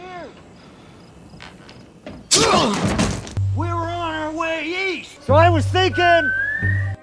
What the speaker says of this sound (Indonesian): mendadak terdengar siulan nyaring dari kejauhan